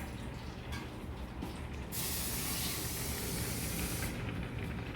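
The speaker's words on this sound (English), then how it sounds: "I'm going to add a little water to this rice." Water poured into a pot of cooking rice, a loud hissing rush that starts about two seconds in and runs steadily for around two seconds before easing back to a quieter simmering hiss.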